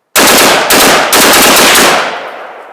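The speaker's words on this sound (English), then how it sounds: "I think that erratic firing is just from the trigger not getting all the way back" An AR-15 rifle fitted with a Fostech ECHO binary trigger fires three loud, uneven bursts of shots, the last one trailing off with a fading echo.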